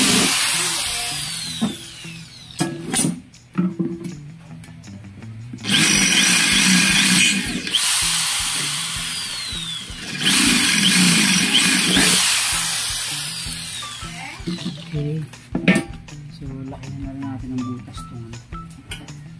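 A power drill bores holes for screws while tank mounts are fitted on a used-oil stove unit, two long loud whirring runs and shorter bursts between clinks of metal, with someone talking in the gaps.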